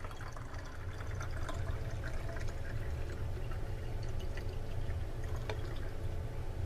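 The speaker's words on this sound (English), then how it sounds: "I'm going to keep pouring water in it." Water pours steadily into a cylindrical container beside a capacitive proximity sensor, a continuous low gurgling splash with faint drips, fairly quiet and with no voices.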